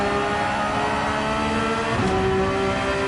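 Porsche 911 engine under throttle in Gran Turismo 7 at Watkins Glen, a steady loud race-car drone with a sharp pitch shift near the end as the engine note changes through a gear or corner.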